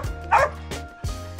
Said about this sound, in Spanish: Esta perrita se nos pegó.